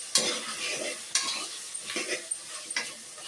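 Ginger garlic paste frying in a pan for country chicken gongura curry, stirred with a spoon; a crackling sizzle runs beneath repeated sharp scrapes and taps of the utensil against the pan, close and fairly loud.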